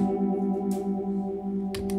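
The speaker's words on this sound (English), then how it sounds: "I need a phaser. It's just really cool." An electric guitar runs through a phaser pedal, with a held chord swirling and sweeping under the effect, played alone with a couple of brief bright pick scrapes near the end.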